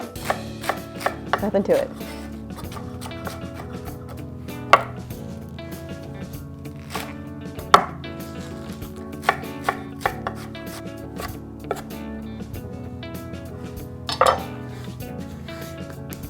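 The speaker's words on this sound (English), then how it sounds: "I'm basically looking to get 8 cups of finely chopped greens" Knife finely chopping a bunch of mixed sour, herbal and neutral greens on a board, irregular crisp chops and scrapes with occasional louder knocks, close up, and a brief spoken phrase.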